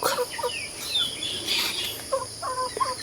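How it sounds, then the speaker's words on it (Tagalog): Chickens cluck and chatter nearby in short, irregular calls, with a few higher squawks mixed in over a faint outdoor hum. "Tapos manok."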